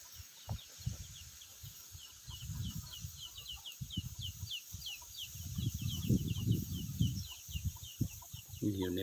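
Wild junglefowl flock in forest, with soft clucks and low calls close by, set against dense high insect or bird chatter, while people talk quietly nearby.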